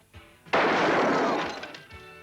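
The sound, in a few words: gunshot from a film trailer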